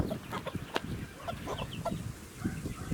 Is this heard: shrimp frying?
no